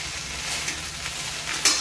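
Okra being stir-fried in a pan over low gas, a close, steady soft sizzle with faint scraping stir strokes and one sharper clink near the end, no talk.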